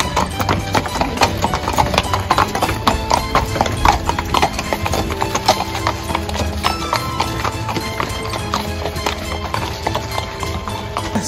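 Horses pulling carriages clip-clop steadily at the stables of a castle in southeast Poland. The hoofbeats are close and continuous, with a brief whinny among them.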